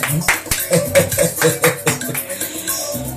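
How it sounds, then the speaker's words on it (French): A small group applauds in a studio, a few seconds of close, uneven hand claps with a rhythmic patter, fading as a voice begins. "Oui, on applaudit pour moi."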